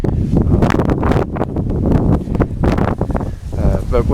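Strong gusting wind buffets the microphone outdoors during a test of a mini tornado siren, producing loud, uneven bursts of low roaring rumble with no clear siren tone.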